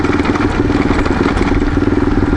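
A motorcycle idles steadily on an off-road mountain trail near Doublehead Gap, its close, continuous rumble carrying a faint clattering texture throughout.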